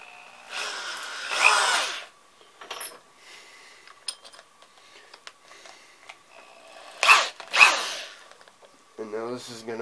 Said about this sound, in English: For the big drill, you want to chuck it up good in the vise.